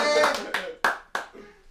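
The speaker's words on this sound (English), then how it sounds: "I'm gonna clap for all the Haitians." Hands clapping close up, about five sharp, spaced claps in a loose rhythm, the first softer and blended with a voice, the later ones crisp and distinct.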